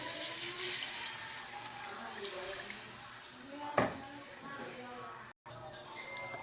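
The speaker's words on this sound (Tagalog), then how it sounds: "dadagdagan natin ang sabaw" Broth is poured into a pot of chicken tinola with malunggay, a soft running liquid sound with a brief splash partway through, while someone talks over it.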